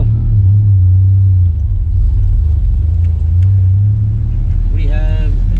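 A boosted car with an LS V8 pulls away as its engine rumbles steady and loud, a deep continuous drone, with a voice briefly heard near the end.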